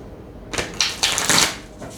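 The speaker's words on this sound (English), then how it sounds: "One more shuffle." A deck of tarot cards being shuffled by hand: several quick riffling, fluttering bursts in close succession, crisp and near, with no voices.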